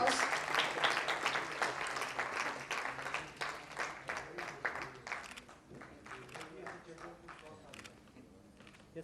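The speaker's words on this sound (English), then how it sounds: "May you please have a round of applause" Conference attendees at an achievers' event break into a round of applause, many hands clapping loudly at first and then thinning and fading over several seconds into scattered claps.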